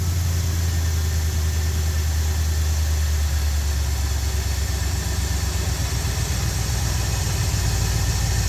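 A Ford 351 Windsor V8 engine in a classic catering truck idles with a steady, loud, low rumble that holds even and constant throughout, with no talking.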